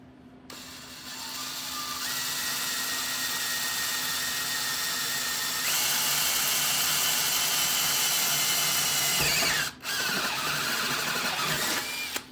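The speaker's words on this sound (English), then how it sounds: "we'll try to drill it straight" A power drill with a step bit whines steadily, its pitch climbing as it bites into a 1927 Ford TT wheel rim cutting a 9/16-inch hole, then cuts out briefly and spins up again near the end.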